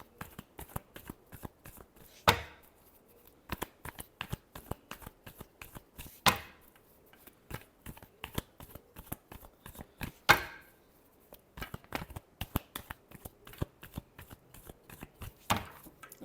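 Tarot cards being shuffled by hand in a quick run of crisp, papery riffles and taps, with a few sharper snaps standing out. It is close and alone, with no talk.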